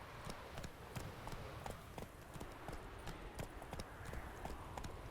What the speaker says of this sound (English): Getting into the Geralt horse noises now.